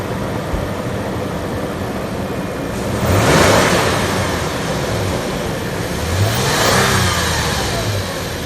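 A Toyota FJ Cruiser engine revs up twice in quick succession, each acceleration surging loudly then settling back, with a steady engine rumble between and no talking.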